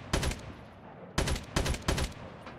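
Gunfire in Call of Duty Mobile during an Attack of the Undead zombie match comes as a short burst, a pause, then three quick bursts in a row, sharp and loud up close.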